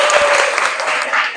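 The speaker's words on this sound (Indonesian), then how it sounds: "Tepuk tangan buat Ella." A classroom of students claps together for a classmate, a short, loud, dense patter of hands close by with a faint voice mixed in.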